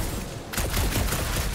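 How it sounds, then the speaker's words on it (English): Gunfire aimed at a gunked-up reactor in Guardians of the Galaxy breaks out after a brief lull as a dense, loud rattle of rapid shots over a heavy rumbling background. "No, a couple of shots should bring it down."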